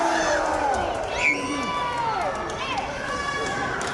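A wrestling crowd cheering and whooping during a match, a lively hum of many voices with rising shouts, heard under a commentator's voice throughout.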